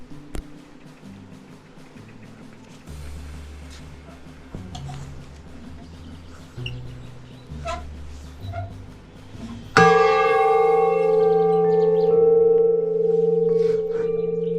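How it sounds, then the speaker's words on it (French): A bell rings out near the end, a single loud struck tone with a long sustained, ringing decay, following a stretch of low rumble and scattered faint sounds at a roadside stop on a gravel bike tour in Brittany. "On sonne la cloche?"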